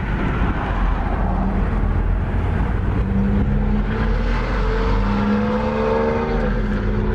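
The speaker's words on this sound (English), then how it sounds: "aftermarket exhaust, or slip-on mufflers actually, sounds really nice." A 2007 Harley-Davidson Super Glide FXD with a 96-inch motor, 6-speed transmission and aftermarket slip-on mufflers idles and revs nearby, a loud continuous low rumble whose pitch shifts upward slightly toward the end.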